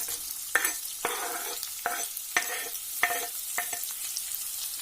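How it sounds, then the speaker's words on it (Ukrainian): Onion fries in rendered pork lard with cracklings, a soft sizzle broken by several sharp scraping stirs of a utensil against the pan, close and fairly quiet. "Я дуже не передержую сало, щоб воно не пересушилося, тому я вже починаю сюди висипати цибульку."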